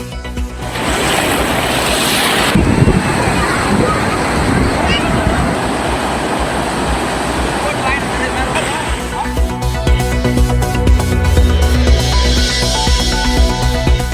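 Sea waves surge and wash steadily onto Tiruchendur beach, where the sea has receded about 20 feet, with continuous roaring surf and wind buffeting the microphone, and voices faintly audible beneath.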